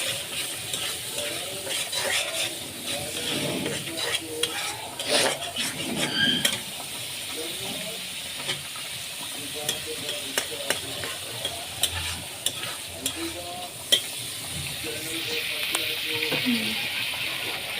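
Potatoes and kelakuch greens cook in a pan with a soft, steady sizzle and intermittent stirring scrapes and knocks, close by, with a faint voice at times.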